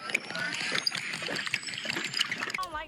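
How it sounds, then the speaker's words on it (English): Someone drinking water close to the mic, with wet sipping, slurping and swallowing sounds in irregular bursts and a clatter near the end. "Hold on, I'm just drinking some water."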